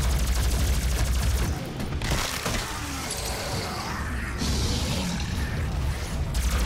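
Rapid, relentless gunfire and booming blasts from the video game Doom fill the whole stretch, loud and dense with shattering impacts and mechanical clatter throughout.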